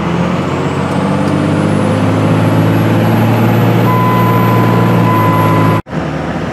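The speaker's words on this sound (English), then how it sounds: "I love the sound of that Dodge Cummins motor." A Dodge Cummins truck engine idles with a loud, steady diesel drone and low rumble, a constant tone running under it before the sound cuts off abruptly near the end.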